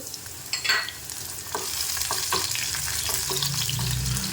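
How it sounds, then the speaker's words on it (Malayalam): Small onions sliced into rings drop into hot oil for a mutton roast and fry with a crackling sizzle. Scraping stirs open it, and a low bubbling hiss builds toward the end, close and with no voices. "നമുക്കിതിലേക്ക് ഉള്ളി ചെറിയ ഉള്ളി തന്നെ ഒരു മൂന്നാലഞ്ച് എണ്ണം വട്ടത്തിൽ എരിഞ്ഞ് ചേർത്തു"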